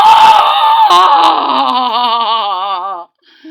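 A voiced giant scream in a read-aloud children's story, one long loud wailing cry that wavers and trembles before cutting off abruptly, performed by a human voice imitating a monster.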